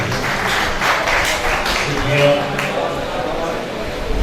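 Audience applause at a Pakistani mushaira poetry gathering in Layyah: a dense, sustained wash of many hands clapping together, with a voice speaking over it throughout.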